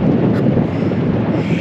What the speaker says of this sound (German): Guck mal, wie windig das ist.